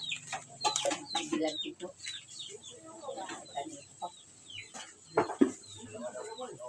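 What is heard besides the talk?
birds, chickens nearby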